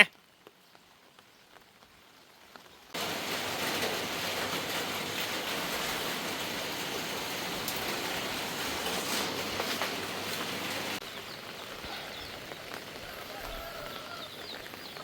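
Steady rain falls over flooded rice paddies in rural Thailand. A broad, even hiss begins suddenly after a quiet start, holds loud and constant, then drops back to a softer wash near the end.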